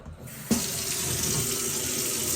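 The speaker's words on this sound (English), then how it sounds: "fill pot up with water" A kitchen tap opens abruptly and runs into a cooking pot, a loud steady rush of water filling it, close by and with no talking.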